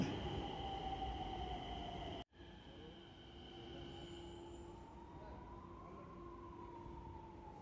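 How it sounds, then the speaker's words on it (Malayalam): A Nagpur Metro train rumbles steadily with a high whine and a rising electric tone as it rolls into the station, loud and continuous. "അതാ നമുക്ക് പോകാനുള്ള മെട്രോ നമ്മുടെ മുമ്പിലേക്ക് ഇതാ വന്നുകൊണ്ടിരിക്കുകയാണ്"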